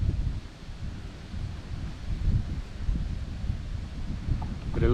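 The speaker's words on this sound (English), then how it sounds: "but it's blowing quite a bit, making it a little bit more difficult to paddle." Wind blowing across the sea during a kayak paddle, a steady low buffeting rush with gusty swells, fairly soft and continuous with no talk.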